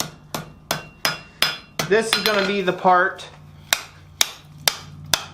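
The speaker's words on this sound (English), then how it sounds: "using some back face hammer blows like that, we're going to try to square that up." Hand-forging steel at an anvil while shaping a utensil rack: sharp, ringing hammer blows fall in a steady rhythm, pause briefly while someone speaks, then resume with evenly spaced close strikes.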